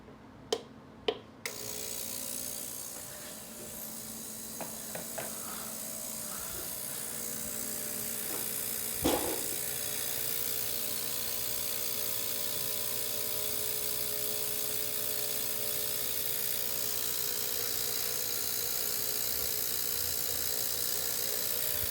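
An ultrasonic cleaner holding Unimat SL DB 200 lathe tailstock parts switches on after a few sharp clicks and knocks, then settles into a steady, even high-pitched hum that runs to the end.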